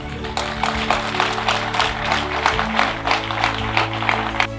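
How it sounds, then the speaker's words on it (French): Audience applause at an inauguration ceremony for a tax office in Kango, heard as dense, steady clapping that rises and falls throughout, with music or background hum underneath. "je vous prie humblement de saluer avec vos applaudissements nourris le pragmatisme de Son"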